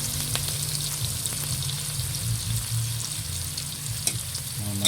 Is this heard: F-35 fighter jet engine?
no